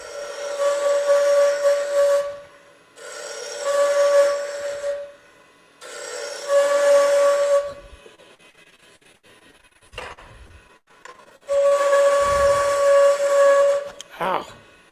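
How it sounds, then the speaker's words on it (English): A spindle roughing gouge cutting wood on a lathe at a woodturners meeting, giving loud, sharp, whistling bursts of cutting noise repeated in several passes with short pauses between them. "I'm going to come back to my spindle gouge, my spindle roughing gouge."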